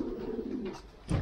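Pigeons returning from a 20-mile training flight coo close by at the loft's landing board, a soft low continuous murmur that swells into a louder coo at the end.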